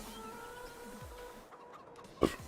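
Chickens in a backyard coop on a pioneering homestead in Oregon cluck softly and repeatedly at close range, with one sharper, louder squawk near the end.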